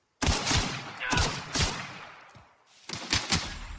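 Enemies firing at the player in The Outer Worlds, rapid bursts of gunfire in several loud volleys separated by short gaps, close and punchy.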